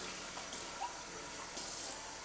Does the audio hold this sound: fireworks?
no